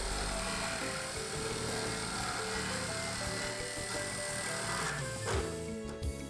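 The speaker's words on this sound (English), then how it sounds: "We will use a jigsaw." A jigsaw cutting a PVC wall panel, a continuous buzzing, rattling saw stroke close and steady, easing off just before the end.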